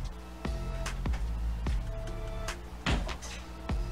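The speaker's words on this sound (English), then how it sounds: "Yes, Mama Shark banging and clanging the doors and things." Cupboard or kitchen doors bang and clang several times in quick, irregular succession, close and fairly loud, with metallic rattling after each knock, heard in a kitchen while a grilled spiced rum shrimp dish is being prepared.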